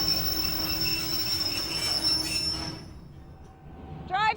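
Train travelling through mountains in Jordan, with metal wheels squealing in a high sustained whine over a rumbling roll that fades near the end, close and fairly loud, with no voices.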